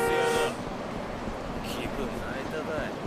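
A car horn honks in the Yakuza 5 video game, a steady tone held for about half a second at the start, followed by game street ambience and faint background chatter.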